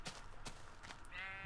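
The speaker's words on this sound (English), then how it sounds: "That is indeed a second pink sheep." A pink sheep in the Minecraft video game gives a couple of short, faint bleats, heard alone with no talk.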